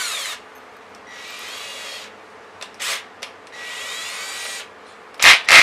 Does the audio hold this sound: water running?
no